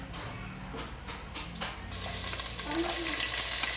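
Chicken frying in a hot pan for chicken sinigang, a soft clatter of stirring giving way to a steady, louder broadband sizzle that fills the rest of the clip.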